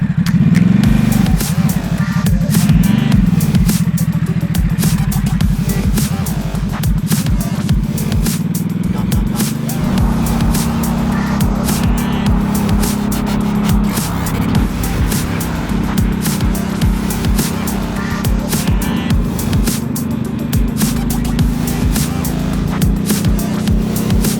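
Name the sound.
Ducati SuperSport motorcycle riding on a race track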